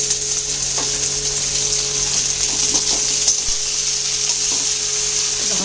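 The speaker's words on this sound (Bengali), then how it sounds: "এবার আমি এর মধ্যে এই যে কেটে রাখা টমেটো আর কাঁচা লঙ্কা দিয়ে দেবো।" Chopped tomatoes and green chillies sizzle steadily in hot oil with lightly fried onions in a pan, a close, continuous frying hiss with faint stirring clicks and no talking.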